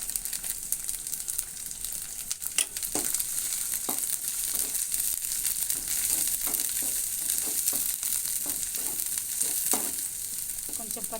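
Ginger garlic paste sizzles steadily in hot oil for a chicken curry, a continuous close frying hiss with occasional stirring clicks and scrapes of a spoon against the pan throughout.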